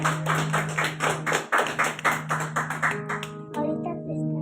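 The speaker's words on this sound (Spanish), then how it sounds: "Un aplauso al Señor." A church congregation claps in steady rhythm over a sustained musical tone. The clapping is close and fairly loud, then thins out and fades near the end.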